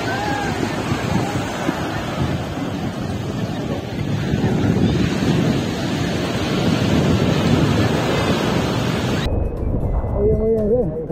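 Sea waves and surf at an open-water swim in Ilo bay, with steady broadband wash and wind buffeting the microphone, ending abruptly into quieter near sounds with faint voices.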